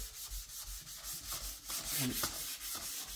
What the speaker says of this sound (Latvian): Tātad tagad mūsu mērķis ar 600 smilšpapīru ir nedaudz izlīdzināt to remontu vietu